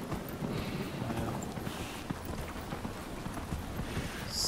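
Hooves of a galloping horse in the video game Dragon Age Inquisition thud in a quick, steady rhythm under soft ambient wind, fairly quiet and continuous.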